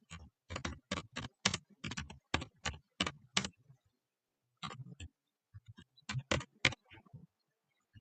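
Someone types on a computer keyboard in quick bursts of crisp keystrokes, pausing briefly and then resuming, close and clear in a quiet room.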